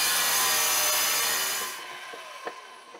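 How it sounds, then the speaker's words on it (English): A wet tile saw grinds steadily through porcelain floor tile during a bathroom renovation in an abandoned building, a loud continuous whine that fades out as the cut ends, followed by a few light knocks. "I decided to invest in this wet tile saw. So let's get to it."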